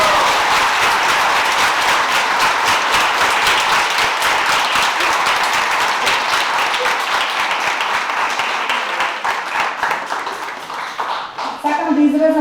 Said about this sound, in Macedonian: би сакала да ја дадем еден огромен аплауз за сите нив